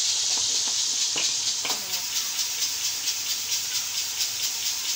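A pressure cooker on a stove for beef pulao vents steam in a loud, continuous hiss with rapid pulsing flutter, heard close and without speech.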